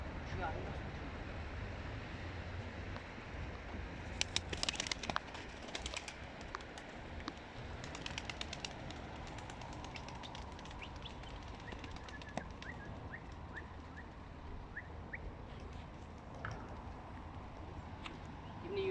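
Pigeons fly with wings flapping in scattered bursts over a constant outdoor wash of noise, with faint voices in the background.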